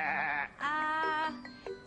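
A person imitates a little lamb's bleating, producing a few wavering, close 'baa' sounds in quick succession.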